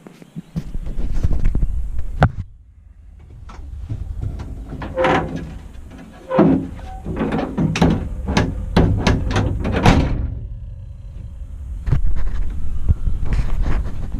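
Tailgate of an XC Ford Falcon wagon with a 351 engine, freshly installed, being worked and shut: a long run of loud, close metallic clunks, bangs and rattles, some in quick bursts.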